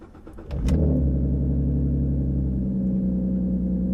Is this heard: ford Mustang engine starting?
yes